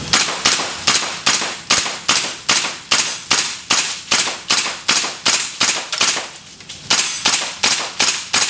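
A KWA M4 gas blowback airsoft rifle firing BBs, loud sharp shots in a rapid, regular string of about twenty-five, each with a quick decaying hiss, the pace easing off near the end.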